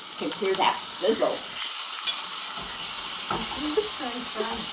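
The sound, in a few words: chicken sizzling in hot oil in a pan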